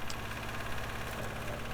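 A diesel engine powering a sawbench runs steadily at a constant speed held by a hand throttle, producing an even, rhythmic low chugging throughout with no talking.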